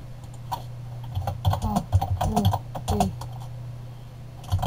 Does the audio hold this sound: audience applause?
no